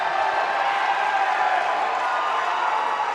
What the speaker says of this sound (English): You can hear the crowd here at the NZCIS.